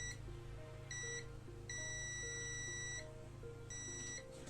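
Circuit tester beeping while probing for a short circuit in a 1970 Grundig Signal 500 radio, with several bursts of high electronic tones over a constant low hum.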